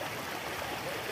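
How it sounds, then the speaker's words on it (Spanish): The Cañaveralejo river runs between city neighbourhoods, giving a steady, even rush of flowing water that fills the short moment without a break. "Es el río Cañaveralejo"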